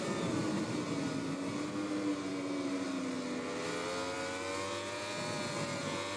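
Racing motorcycle engine in MotoGP 20, a Suzuki on track, droning loud and steady with a rising, revving pitch throughout and no voices.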